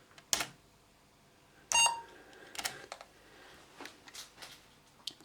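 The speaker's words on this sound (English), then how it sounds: "that was the speaker you heard beeping there." The internal speaker of a Panasonic CF-07 laptop sounds a short electronic beep in the BIOS screen, heard close amid sparse key clicks and taps.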